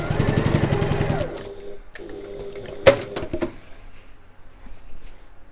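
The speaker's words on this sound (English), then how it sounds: "I'm just going to baste across those right at the top in the seam allowance" A domestic sewing machine basting across the top of a bag's seam allowance, a short rapid run of stitching for about a second, then quieter clicks and fabric handling, with a sharp tap partway through.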